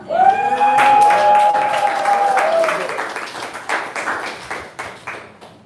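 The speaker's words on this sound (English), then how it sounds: "You guys can clap it up more" An audience at a live pitch event claps steadily for a few seconds, with a sustained whoop or voice riding over the early applause before the clapping thins into scattered claps.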